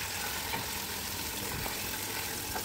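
Chicken legs with garlic and ginger sauté in a pan, giving a faint, steady sizzle and crackle with the occasional soft stir, and no voices.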